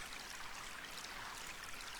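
Water pours into a water skin in the Quest for Glory 2 game, a faint, steady hissing trickle that runs without pause, with no voices.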